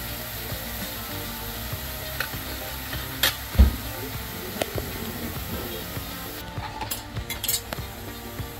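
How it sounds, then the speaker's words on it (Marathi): Dried shrimps stir-fried in a pan give a steady close sizzle, broken by scraping and metallic clinks from a spatula against the pan, with a sharp knock in the middle and a cluster of clinks near the end. "दोन मिनिटं परतू द्या।"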